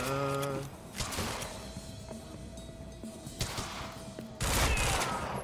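Burst of gunfire from the Quantum Break video game, a loud volley at the start and another heavy burst near the end, with intermittent shots, thuds and game effects in between.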